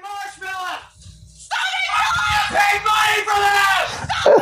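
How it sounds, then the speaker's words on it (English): A woman screams shrilly and at length in a played video. The screaming is loud and sustained, mixed with chaotic voices, and a man's reactions can be heard over it. "Oh god, stop that damn screech"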